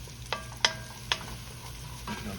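Bacon, onions, green beans and red potatoes cooking together in a pan, with a low steady sizzle broken by three or four sharp scraping clicks of a utensil stirring the food.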